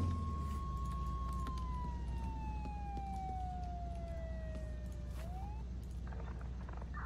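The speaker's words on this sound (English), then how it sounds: "Alright, ambulance en route." Ambulance siren in the video game Flashing Lights, a single sustained wailing tone that slowly drops in pitch then rises briefly, over a low steady engine rumble, with no talking.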